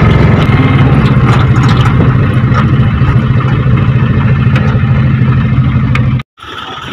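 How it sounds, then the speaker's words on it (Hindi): Tractors running at a grain market (galla mandi) in Khurai, giving a steady, loud low engine drone with a lighter mid rumble on top, continuous until a brief drop near the end. "ट्रैक्टर अभी लगे ही हैं।"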